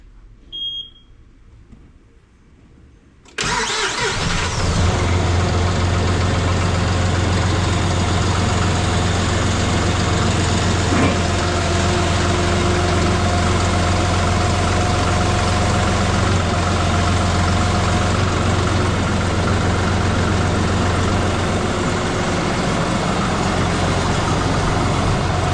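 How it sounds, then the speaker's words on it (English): A tractor loader's engine is cranked over and catches after a few seconds of quiet, then settles into a steady, loud, rumbling idle that holds for the rest of the clip. "I think I'll crank this thing up and raise my loader up"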